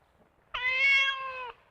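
A cat gives a single clear, drawn-out meow of about a second, close and fairly loud against a quiet room.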